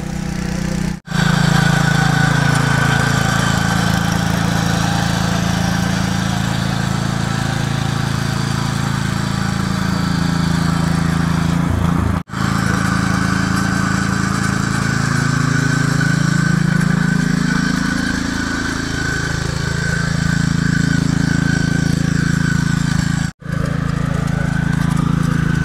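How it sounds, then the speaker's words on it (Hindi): Raja Bhai R725 power tiller with a fibre plough works black soil, its engine droning loud and continuous under steady load with slight pitch swells. "इसमें हमने फाइबर का प्लाव लगा दिया और हमारी R725 बुल की ताकत है जी।"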